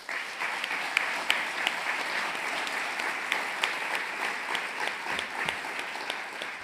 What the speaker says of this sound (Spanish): Llavors també un aplaudiment per l'equip del FICMA.